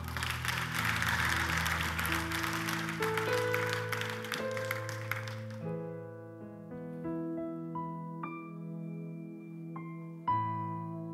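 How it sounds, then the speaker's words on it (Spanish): Congregation at a church service applauding loudly and steadily for about five seconds over sustained keyboard music, then the clapping stops and the music carries on alone. "Un fuerte aplauso."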